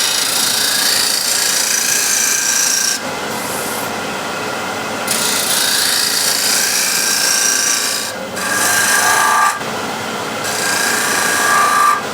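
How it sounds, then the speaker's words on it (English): A steel shear scraper rasps and scrapes along a curved wooden edge, shaping a reverse curve. The scraping is steady and close, with brief pauses and changes in pitch as the strokes shift. "So here, this is a shear scraper."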